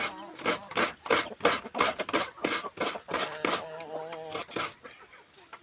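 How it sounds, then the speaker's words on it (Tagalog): Repeated rhythmic scraping strokes of coconut being grated by hand, rough rasping sounds at a steady pace, close up. "Magkudkod tayo ng lubi."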